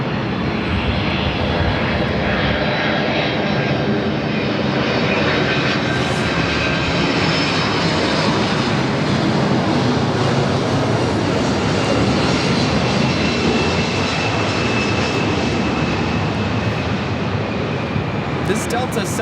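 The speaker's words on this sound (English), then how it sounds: "767-300ER is coming in from Honolulu, flight 495." A Delta Boeing 767-300ER jet arrives from Honolulu at Los Angeles LAX, its loud, steady engine roar filling the whole span with a broad sustained rumble and whine.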